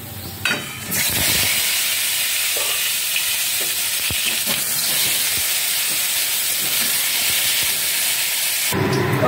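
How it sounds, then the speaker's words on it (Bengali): Lightly steamed pointed gourd (potol), seasoned with salt and turmeric, drops into hot oil and fries with a loud, steady sizzle and hiss, close by, with occasional stirring clicks and no talking. "তেল গরম হয়ে গেছে, পটলগুলো ভেজে নেব।"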